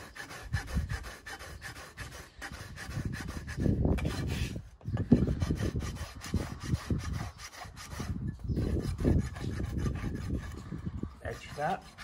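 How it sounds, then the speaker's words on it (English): Farrier's rasp filing the bottom of a horse's hoof, close rhythmic rasping strokes repeating steadily with short breaks, fairly quiet and heard on their own. "I really like this rasp on the bottom of the foot"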